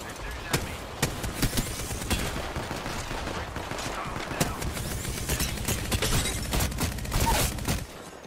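In a video game firefight, sharp shots crack in rapid, repeated bursts over a constant busy background, and faint voices may sit underneath.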